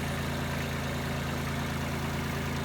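A tractor engine idles steadily with a low, even throb that holds unchanged the whole time, loud and close, with no voices.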